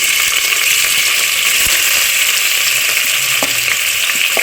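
Sliced onions sizzle loudly and steadily in hot oil with cardamom and a piece of cinnamon, browning for chicken biryani; a dense, even crackle continues from start to finish with no voices.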